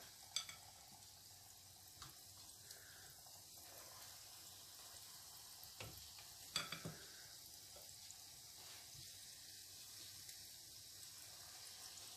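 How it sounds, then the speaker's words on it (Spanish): Soft, steady sizzling of dough frying in oil, faint and continuous, with occasional light clinks and taps of a utensil. "una vez la masa hecha, terminada, empezamos a freír."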